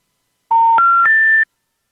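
A telephone intercept signal plays the three rising tones of a disconnected-number message, loud clean beeps stepping up in pitch over about a second, alone.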